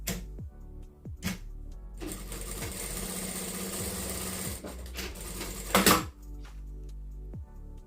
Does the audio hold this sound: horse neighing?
no